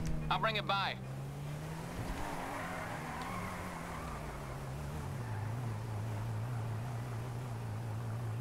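A BMW car engine starting in a video game struggles to catch at first, then settles into a steady, low idle that drones on; a voice is heard briefly at the start.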